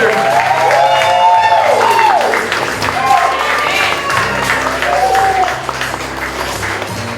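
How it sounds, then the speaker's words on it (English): Wedding guests applaud and cheer for the groom and his mother after their dance, with crowd noise and whoops under loud music and some voices at a reception. "Nice round of applause for our groom and his mother tonight."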